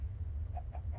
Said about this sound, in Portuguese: Só tirar essa galinha aqui que eu acabei de matar.